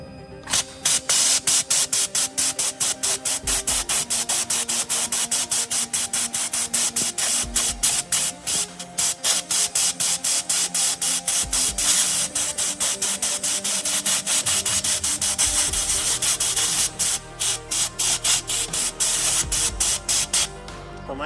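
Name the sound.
viral TikTok handheld sandblaster spraying, stripping a surface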